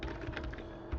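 Quick keystrokes on a computer keyboard tap out a short text label, a brief burst of soft, close clicks in an irregular rhythm at low volume.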